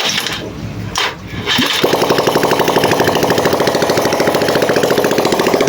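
A small engine with a damaged connecting rod sputters, briefly cuts out, then catches and runs with a loud, rough, rapid knocking rattle that continues steadily.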